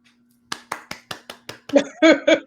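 One person claps six times in a steady rhythm, each clap sharp and close, before a voice starts speaking over the last few beats.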